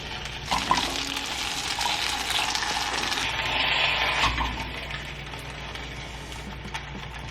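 Food frying in sesame oil in a pan, a steady close crackling sizzle that holds throughout and eases slightly toward the end.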